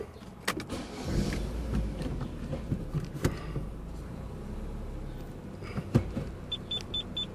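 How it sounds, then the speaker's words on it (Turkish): An Opel Astra J idling and creeping slowly back and forth, with engine rumble, a few clunks and a faint repeating beep from a rear parking sensor near the end. "Aracı bir ileri geri yürüteceğim."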